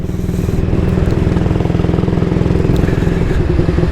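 A 1938 AJS Model 22 250cc vintage motorcycle engine idles close by, its steady low chugging pulse loud and even with a slight mechanical clatter throughout.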